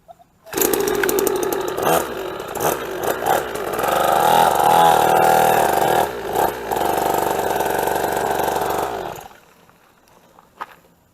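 SSR SX50 pit bike engine revs hard and loud on a top speed run, a buzzy, rising two-stroke-like drone holding for about eight seconds with brief dips between shifts, then cutting out abruptly to near silence.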